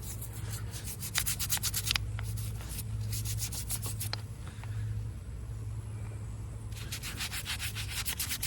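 A brush scrubs grease off an intake manifold in rapid back-and-forth strokes, close and harsh, with bursts that pause briefly and then resume, over a low steady hum.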